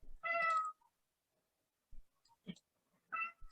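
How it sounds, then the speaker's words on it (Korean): A cat meows indoors: one clear, drawn-out meow stands alone, then after a pause a few soft clicks and a second, shorter meow follow. "야옹의 소리가 들리네."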